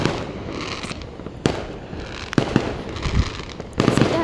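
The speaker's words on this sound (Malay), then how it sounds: "Lek, tengok je bunga api mercon tu." Fireworks and firecrackers going off outside a house at night, a series of sharp bangs and crackling bursts at irregular intervals over a steady background of distant popping.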